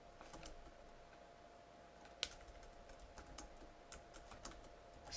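Computer keyboard typing in quiet surroundings, a run of light, uneven clicks with a sharper keystroke partway through and another near the end, alone.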